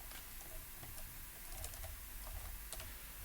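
Quick, light keystrokes on a computer keyboard, a soft irregular patter of clicks at close range with no talking.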